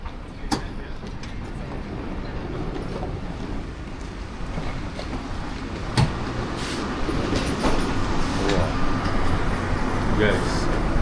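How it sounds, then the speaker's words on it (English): Airport metro train rumbles and rattles steadily throughout, with clicks and rising noise as it moves, while people talk and a boarding announcement plays over it. "Look at the train."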